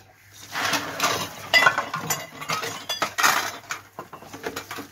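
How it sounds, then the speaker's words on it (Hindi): Dishes, pots and cutlery being washed by hand in a home kitchen, with irregular clinks, knocks and scraping of metal utensils coming in quick bursts at close range, with no talking. "तो अभी मैं बर्तन धो लेती हूँ जल्दी से"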